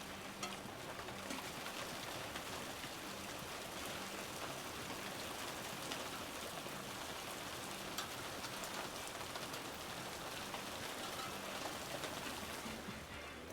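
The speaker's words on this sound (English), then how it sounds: "they are some really big raindrops" Big raindrops patter steadily and densely on a surface, a continuous close hiss of rain with no talk.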